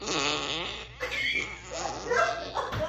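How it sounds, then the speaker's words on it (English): A synthesized squeaky fart sound effect played by an Alexa smart speaker, heard as a wavering, squealing tone with rising and falling pitch, close and fairly loud, following a voice assistant announcing it. "Here comes a squeaky fart."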